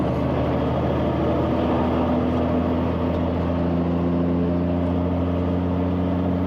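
A 500-horsepower rig-moving truck engine drones loud and steady as it drives along a road, a continuous low rumble with no talk.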